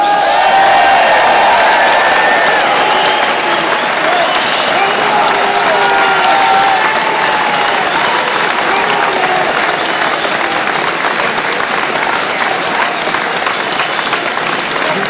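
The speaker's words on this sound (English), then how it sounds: "it's time for you to make some noise and welcome the Exeter Chiefs!" A large stadium crowd at an Exeter Chiefs v Doncaster rugby match roars with sustained applause and cheering, loud and continuous, with scattered whoops and an amplified announcer's voice echoing underneath.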